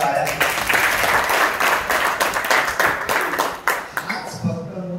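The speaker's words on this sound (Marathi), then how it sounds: "त्यासाठी त्यांच्यासाठी जोरदार टाळ्या" An audience at a basic training session in Rahuri breaks into loud, sustained applause, with dense clapping filling the room for several seconds before it tapers off.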